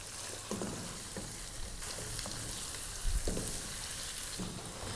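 Pre-boiled mutton pieces fry in a pot for Pakistani aloo gosht salan, a constant soft sizzle with occasional spatters and stirring knocks, no voices.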